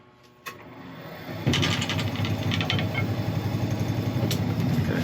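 A wood lathe turned down to reduced speed spins up with a click and then a rising mechanical hum, settling into a steady, close, rhythmic whirring drone.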